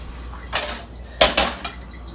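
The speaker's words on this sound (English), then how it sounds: "Let's put stuff on the sink. Rinse it up for a bit." Dishes and cutlery clatter in a kitchen sink while being rinsed: a few sharp, close clinks and knocks spaced over two seconds against a quiet background.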